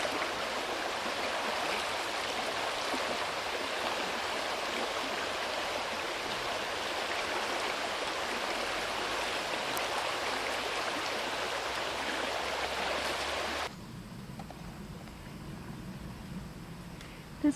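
Continuous rushing of a river flowing beneath a bridge, a steady broadband wash that drops away abruptly near the end.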